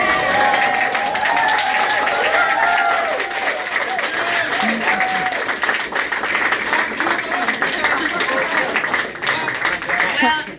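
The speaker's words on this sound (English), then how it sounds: "That's the biggest applause of the night" A crowd at a political visit in Chemung County bursts into loud, sustained applause mixed with cheering and whoops, with a few voices rising over the dense clapping for the whole stretch.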